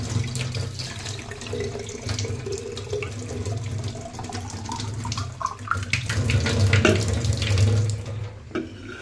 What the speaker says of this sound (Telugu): ట్యాప్స్ కింద వాటర్ పట్టి